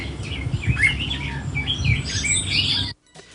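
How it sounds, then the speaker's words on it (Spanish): A small bird chirps and squawks in quick, busy bursts over a rustling background, then the sound cuts off abruptly near the end. "El pájaro gorjea."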